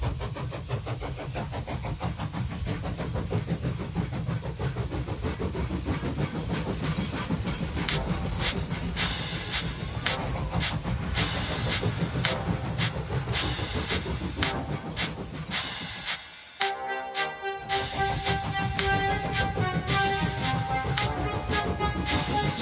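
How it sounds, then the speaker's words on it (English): Steady, dense mechanical rumble of steam engines hauling freight cars uphill, continuous and loud throughout with a brief dropout near the end. "Slowly but surely, the snorting engines forced the unwilling freight cars up the hill."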